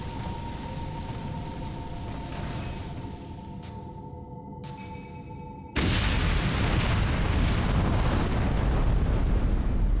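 An explosion in the Metroid Other M video game: a steady electronic hum with a couple of short blips gives way abruptly to a loud, sustained roaring blast and rumble that fills the rest of the scene.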